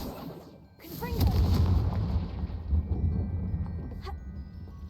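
Fiery Confringo spell blast in the Hogwarts Legacy game: a sudden heavy explosive boom with rumbling low roar and crackling debris lasting several seconds, fading slowly after a brief quiet start.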